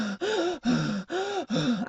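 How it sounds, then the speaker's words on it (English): A person breathes heavily on purpose, four loud, rhythmic, voiced breaths in quick succession, each with a gasping, groaning tone and short gaps between. "I could start breathing much heavier"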